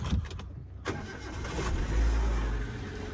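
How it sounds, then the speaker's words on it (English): A car engine cranks and catches, then settles into a steady low idle as it runs to warm up, close by. "Let it run a little bit and let the engine warm."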